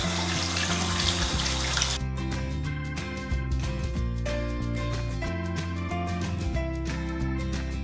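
A tap runs loudly and close while a face is washed, a rushing splash lasting about two seconds before stopping, after which quieter tonal background sound carries on without talk.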